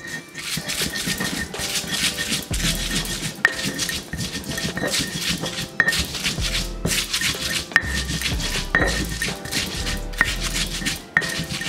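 Garlic and dry sugar being ground in a mortar for sambal, a steady scraping and rubbing grind with repeated knocks and clatters of the pestle, close and continuous throughout with no talking.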